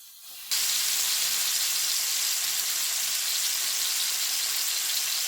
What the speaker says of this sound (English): we're going to saute our beef in our pan